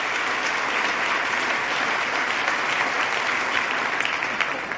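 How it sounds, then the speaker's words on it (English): An audience at a State of the State 2014 gathering gives a speaker named Pat a big round of applause, a dense, steady roar of clapping that holds evenly for several seconds. "let's start by giving Pat a big round of applause for coming up and sharing his story"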